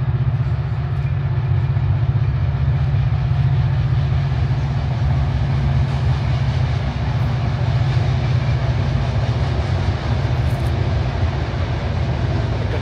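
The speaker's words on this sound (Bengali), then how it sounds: "সরি, একটা ট্রেন মনে যাচ্ছে, আমি ভুলই করলাম দ্রুত এসে।" A train rumbles steadily across the Jamuna railway bridge in Sirajganj, Bangladesh, a loud continuous low drone of wheels and wagons heard without a break.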